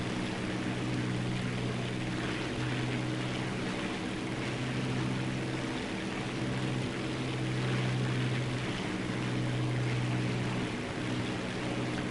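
Steady droning propeller aircraft engine of a slow-moving plane in War Thunder, a continuous low hum with faint harmonic tones, moderately quiet and unchanging throughout.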